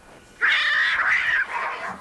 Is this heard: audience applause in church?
no